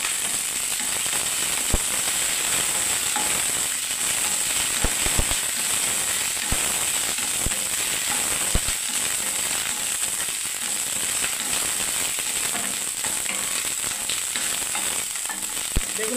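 Okra frying in hot, splattering oil: a loud, dense sizzle with frequent sharp pops and crackles of spitting oil, steady and close throughout, with no speech.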